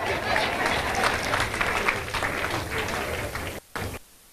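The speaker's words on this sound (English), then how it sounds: "I think we need to give a round of applause to our host and our MC this" Guests at the NFA 2014 celebration applaud the evening's host and MC with a full, busy burst of clapping that thins out and breaks off near the end.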